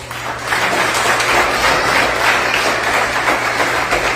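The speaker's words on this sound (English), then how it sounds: "Natasha Piper, a round of applause." Applause from an audience at an Emancipation Day celebration in Moruga rings out in a steady, dense wash across the whole stretch, fairly loud, with a low hum beneath it.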